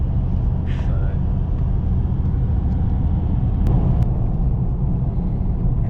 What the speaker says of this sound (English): So we're still driving along.